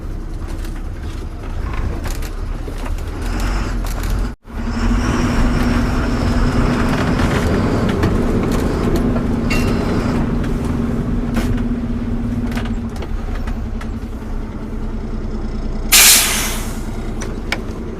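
A truck rolling along with its tires turning, a steady loud road rumble and low engine drone, broken by a brief dropout and a short hiss near the end.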